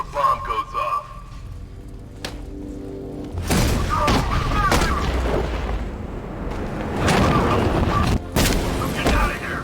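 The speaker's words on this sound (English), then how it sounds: "Just wait till the bomb goes off." Bomb blasts in Batman: Arkham Knight, several heavy booms and rumbling bursts follow one another, loud and close, with voices talking throughout.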